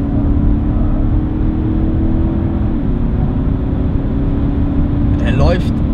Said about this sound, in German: schaut mal, wenn ich Gas gebe